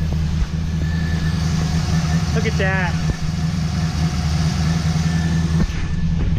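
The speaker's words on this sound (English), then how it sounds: "Let her run a little bit." Modified Chevrolet Camaro SS engine with upgraded heads and cam idling close by in a shop, a steady, lumpy low rumble that holds throughout while someone speaks briefly over it.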